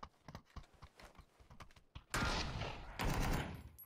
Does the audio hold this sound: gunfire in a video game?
yes